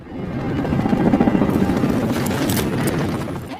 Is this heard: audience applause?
no